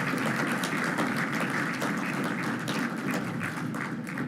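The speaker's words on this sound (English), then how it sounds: "And a warm applause." Steady applause from an audience at a German-Philippine business forum, a dense even wash of many hands clapping at moderate distance throughout, without speech.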